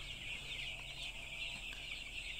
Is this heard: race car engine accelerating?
no